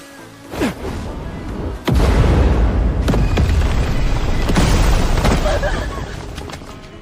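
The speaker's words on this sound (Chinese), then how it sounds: "这叫陶瓷开花雷，里面不仅有火药，我还加了铁钉和碎瓷片。" A ceramic clay-pot bomb packed with gunpowder, iron nails and shattered porcelain goes off with a loud, sudden boom, and a sustained rumbling roar follows for several seconds, with a few sharper cracks inside it.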